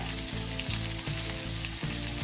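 Gram flour roasting with coriander powder in a pan, a quiet, close crackle and fry with rhythmic scraping strokes of a spoon about every half second.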